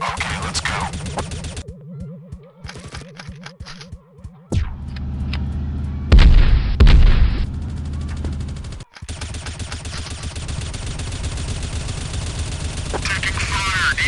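Gunfire rattles through a Chicken Gun video game match, with bursts of rapid shots, louder blasts and stretches of game noise and music, while a voice speaks over parts of it.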